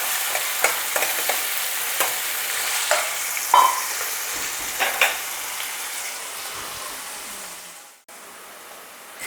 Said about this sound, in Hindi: अब इसको हिलाते हुए प्याज को अच्छी तरह से भूनेंगे।